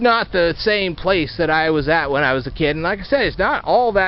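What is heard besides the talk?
No distinct noise like a dog, phone or traffic.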